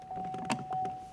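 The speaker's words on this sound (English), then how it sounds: "Power windows in the back." Power windows on a Chevrolet Equinox with cloth interior run in the back, giving a short, close electric motor whir lasting about a second inside the car.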